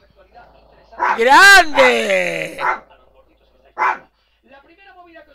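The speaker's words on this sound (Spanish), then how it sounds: "perro, que se calle" A dog lets out a loud drawn-out bark-howl close by, then a shorter bark a moment later, with a voice speaking briefly at the start.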